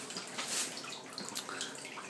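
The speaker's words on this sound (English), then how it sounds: "I slowly start hearing the boiler." A moonshine pot still boiler heats mash, giving off faint, irregular bubbling and ticking water sounds, quiet and close, with no voices.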